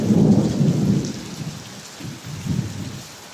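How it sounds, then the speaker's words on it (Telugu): Rain pours down with deep rolling thunder during a storm, a heavy close rumble at first, then softer repeated rumbles beneath the steady hiss of rainfall. "ఇది వర్షం."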